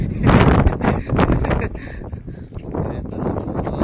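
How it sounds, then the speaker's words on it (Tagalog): Strong wind gusts buffet the microphone in loud, rumbling bursts that rise and ease over a few seconds. "Talaga, ang lakas ng hangin dito."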